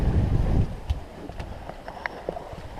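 Steady wind rushes past the microphone aboard a sailboat beating upwind at six knots in twelve knots of breeze off Corsica, a strong gust at first easing into lighter buffeting with faint creaks and taps from the boat.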